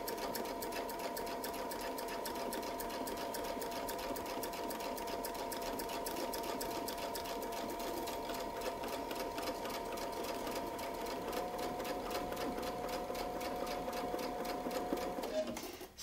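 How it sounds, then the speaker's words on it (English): A sewing machine runs in one long, even, continuous hum while stitching a quilt along a Westalee Spinefex ruler template, close and unbroken until it stops abruptly at the end. "I'll just sew up here, hit the template and come around."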